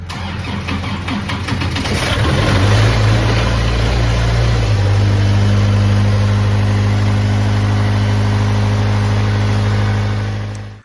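Skid loader engine cranks briefly, then catches and settles into a loud, steady running rumble close by, continuing until it cuts off at the end.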